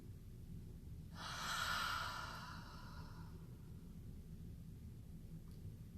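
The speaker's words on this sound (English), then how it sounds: "let's take a really deep breath together" One deep breath is drawn in and let out as a long, soft, airy exhale. It is close and alone over a low steady background hum.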